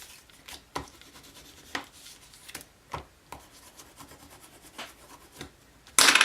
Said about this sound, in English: I'm going to take my bone folder and give all that a little bit of a rub